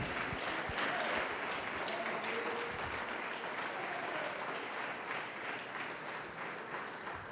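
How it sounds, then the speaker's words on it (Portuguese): A church congregation applauding during a Christian family sermon, steady broadband clapping from a large crowd that carries on for several seconds, with faint voices and cheers mixed underneath. "Pode aplaudir, glorificar a Deus."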